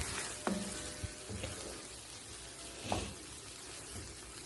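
Tuna salted egg sisig sizzles quietly in a pan while it is stirred, with a few soft scraping clinks of the utensil over a steady low frying hiss.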